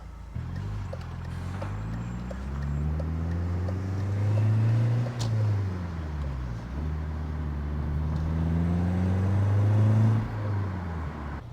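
An old BMW car with a recently repaired clutch drives along with a steady engine drone that rises and falls through gear changes, sounding close and fairly loud, with a brief sharp knock midway and no talking.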